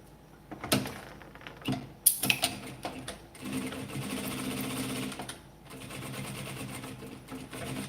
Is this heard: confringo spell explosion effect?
no